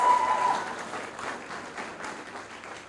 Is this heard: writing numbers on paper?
no